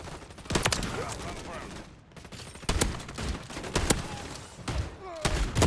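Shotgun fire in the video game Call of Duty, several sharp loud blasts spread across the moment, with a voice talking between shots.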